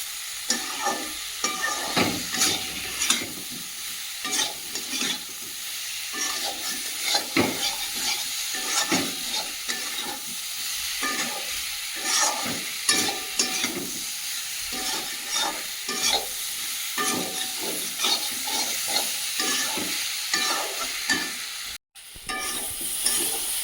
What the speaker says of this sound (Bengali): ভেজে রাখা পটল আর আলুগুলো দিয়ে দেব দিয়ে ভালো করে কষিয়ে নেবো